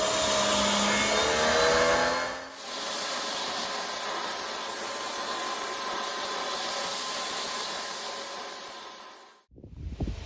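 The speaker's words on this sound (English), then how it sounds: "We finished the power wash." A pressure washer blasts water across a timber deck, a loud, steady broadband hiss that runs for several seconds after a brief start-up and then cuts off abruptly near the end.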